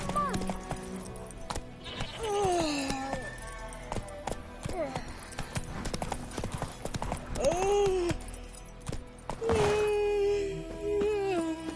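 A horse gallops in The Witcher 3 with loud, fast hoofbeats that drum on throughout, under several voices speaking and calling out, along with occasional bleats and other background cries.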